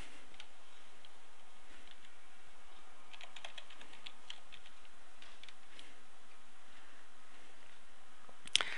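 Computer keyboard typing a username and password during forum setup: quiet, close, irregular clusters of light key clicks with short pauses and a sharper tap near the end.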